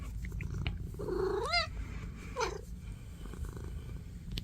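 A cat purrs softly and steadily up close, with a couple of brief rising meow-like chirps over the low rumble.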